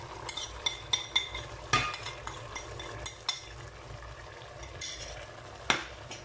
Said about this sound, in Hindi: और अच्छे से हम इनको फ्राई कर लेंगे 4 से 5 मिनट के लिए।